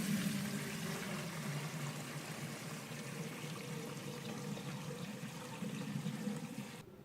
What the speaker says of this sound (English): Gently pour the curds into a fine mesh colander.